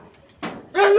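Pregnant dog close to giving birth, rescued from a slaughterhouse, lets out a short faint whimper and then two loud close yelps or barks in quick succession.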